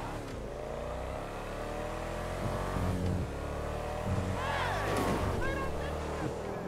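A Lampadati Novak SUV engine in GTA V Online hums and revs as it drives, a continuous motor drone rising and falling in pitch, with someone talking over it.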